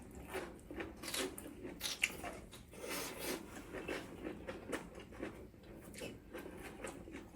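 Close, crunchy chewing of crisp, lightly stir-fried vegetables including carrot, from a squid and pork stir-fry, with rhythmic bites and soft squishy crunches repeating steadily at a quiet level.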